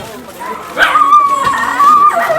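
A dog barks and whimpers close by, a loud whining cry stretching over a second or more, with yips and rough background noise around it.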